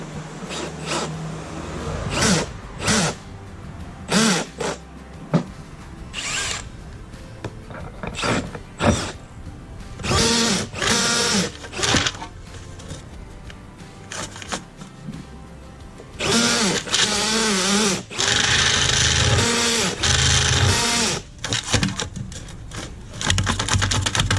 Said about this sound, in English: High speed on number 6 on drill.